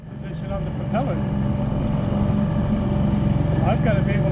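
The engine of a Skipjack sailboat runs steadily close by, a loud, continuous low drone with rhythmic throbbing near the propeller that holds even throughout.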